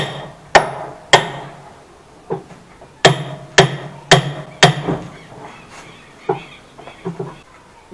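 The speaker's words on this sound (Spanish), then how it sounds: "Y luego damos unos pequeños golpes para terminar con el apriete." Light hammer taps tightening the transmission on a Samsung washing machine, about a dozen sharp close metallic knocks in irregular bursts with short pauses between them.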